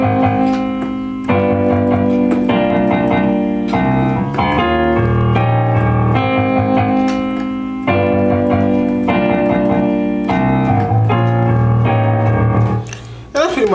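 Piano playing the groovier second verse of a song, its chords shifting in steady sections with busier rhythmic attacks, close and loud and without speech.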